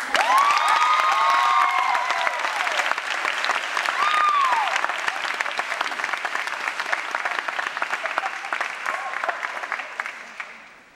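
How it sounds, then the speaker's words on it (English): Sustained applause from a large crowd, steady and dense, with a few whoops and shouts rising above it before it gradually fades toward the end. "let's take a minute to give ourselves an applause"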